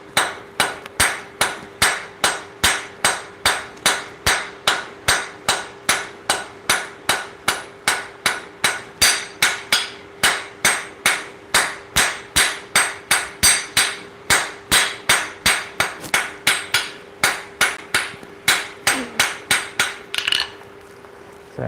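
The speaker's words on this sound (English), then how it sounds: "I guess we'll have to see what the hammering sounds like" A hammer strikes small 6mm round steel bar during forging, ringing out in a long, steady run of about fifty sharp, evenly spaced metallic blows, loud and close, with a faint tone sustained underneath.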